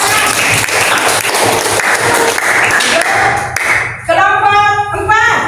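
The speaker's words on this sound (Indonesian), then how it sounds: "Ya, tepuk tangan." A group of students clapping hands together in a classroom, brisk loud applause for several seconds, then cutting off as a voice talks over some lingering claps.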